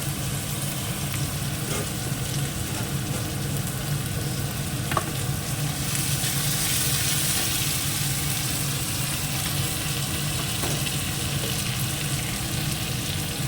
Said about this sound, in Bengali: লাল করে ভাজা হয়ে গেছে একটু ছোলাগুলো ফাটছে